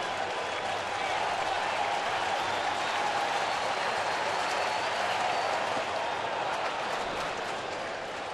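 Baseball stadium crowd at a 2013 NLDS playoff game involving the Pirates, cheering and applauding in a dense, sustained roar that holds steady for the whole stretch without letting up.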